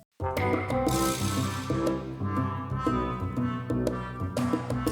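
Video game music track with a muted trombone lead and an upright bass over chromatic descending chords, a full bouncy arrangement with steady rhythmic hits, loud and continuous, no voices.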